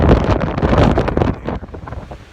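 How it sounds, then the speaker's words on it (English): Strong wind buffets the microphone with loud, rumbling gusts, easing off toward the end. "It is still super windy."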